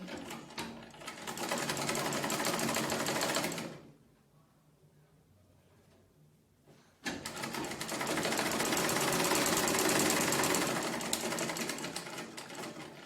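A sewing machine runs steadily stitching a bodice seam with half-inch allowance, a close whirring hum that stops for about three seconds mid-clip, then resumes and runs on to the end.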